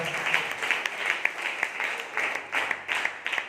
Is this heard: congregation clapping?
yes